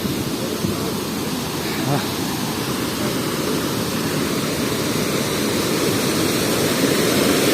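The Kernek waterfall in Malatya produces a continuous, dense rushing roar that stays even and loud from start to finish, with no break.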